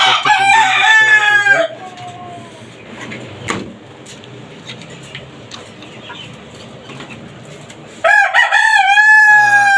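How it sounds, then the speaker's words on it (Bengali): White tiger chickens kept in cage housing: a rooster crows loudly at the start and again near the end, with quieter clucking and shuffling between, close by. "এই হচ্ছে আমার সাদা টাইগার মুরগি"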